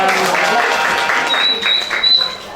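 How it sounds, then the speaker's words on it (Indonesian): An audience at a cultural event applauds in a loud burst of mixed clapping, with voices and cheering under it and a thin whistle-like tone near the end. "Tepuk tangan dong."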